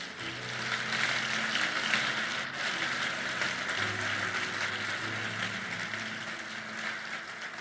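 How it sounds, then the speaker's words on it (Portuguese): A church congregation applauds during a sermon, a steady wash of clapping sustained for several seconds, moderately loud and even, with a low hum underneath. "Você pode aplaudir o Senhor?"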